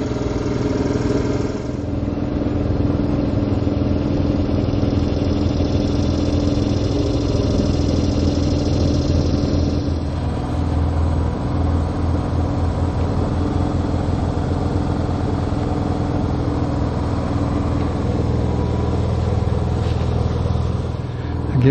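A generator runs steadily as the power source for an oxalic acid mite treatment at beehives, a constant mid-pitched engine drone with a slight shift in tone partway through.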